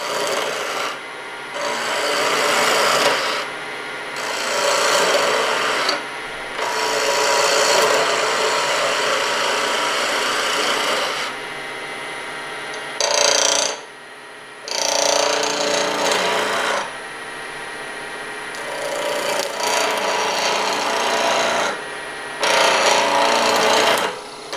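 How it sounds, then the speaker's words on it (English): Pen blank being roughed out on a wood lathe with a gouge: harsh, rasping cutting bursts a few seconds long, separated by short pauses, loud and close, with no talking. "I'm just going to rough out some more real quick for you."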